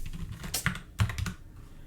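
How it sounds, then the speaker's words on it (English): Close, quick keystrokes on a computer keyboard come in a short burst of several clicks, typed while setting up a vehicle in Unreal Engine, with no voice over them. "if I can type correctly"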